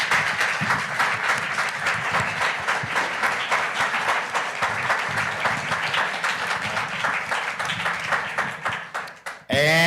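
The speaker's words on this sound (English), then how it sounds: "give you a roaring round of applause" A crowd at a community summit gives a panel a long, roaring round of applause, dense rhythmic clapping sustained for about nine seconds before a voice cuts in at the end.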